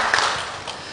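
A church congregation at a teachers' dedication service breaks into applause for the teachers, a brief wash of many hands clapping at moderate loudness.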